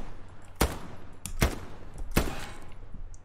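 Enemy gunfire in the video game Hell Let Loose: three sharp, loud single shots spaced less than a second apart, cracking over a low battlefield rumble.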